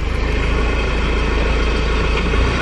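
Street traffic ambience drifts in through an open car window, a steady low engine rumble and road hum from a few passing cars, continuous and moderately loud with no voices.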